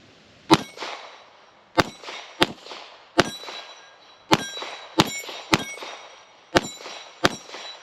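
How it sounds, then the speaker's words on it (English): Pistol rounds striking 8-inch steel plates about 25 feet downrange, ten sharp ringing clangs at uneven intervals, each with a short metallic ring-out, fired from a Springfield Echelon at an outdoor range. "I got a couple 8-inch plates about 25 feet downrange here."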